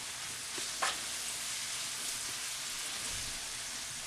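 Peppers frying in a pan, giving off a soft, steady sizzle with faint crackles and one brief clink of a utensil near the start.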